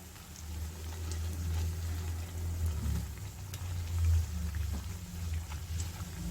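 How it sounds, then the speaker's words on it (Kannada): Masala aloo bondas frying in hot oil, a steady low bubbling sizzle with a fine crackle that holds at an even, moderate level throughout, with no voices. "ಇದೇ ಥರ ಎಲ್ಲನೂ ನಾನು ಫ್ರೈ ಮಾಡಿ ತಗೊಳ್ತಾ ಇದ್ದೀನಿ"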